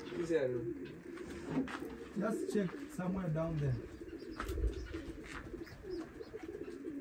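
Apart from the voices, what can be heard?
birds cooing in the ceiling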